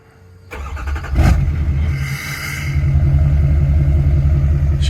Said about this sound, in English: I'll do a little startup for you.